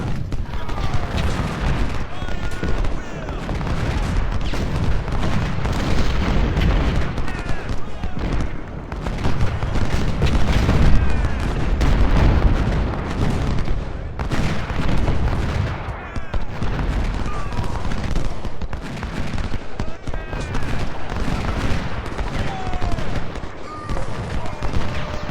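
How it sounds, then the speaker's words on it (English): Cannon fire booms throughout a Civil War battle in Ultimate General: Civil War, repeated heavy blasts and crackling volleys layered over continuous battlefield din, with talk mixed in. "Can't see where the damn cannons are coming from."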